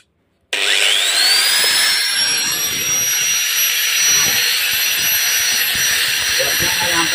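An electric power tool, a drill or grinder, switches on with a sharp start and runs at a steady, loud, high-pitched whine that rises as it spins up, then holds constant with no talk over it.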